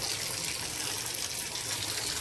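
Steady running water rinses dye out of hair, a continuous close hiss of a faucet or shower stream flowing without pause and with no talking.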